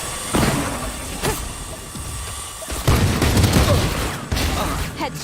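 Gunfire in a Valorant match comes as scattered sharp shots and bursts over a rumbling game background, with a heavier volley near the end.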